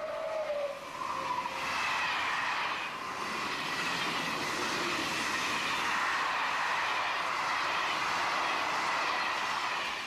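A Belgian Railways Class 18 electric locomotive, a French-styled design based on the SNCF CC 40100, passes with a steady, broad rumble and hiss that holds loud and continuous throughout, with no voices.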